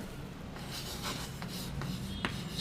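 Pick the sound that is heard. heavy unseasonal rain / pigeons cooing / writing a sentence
writing a sentence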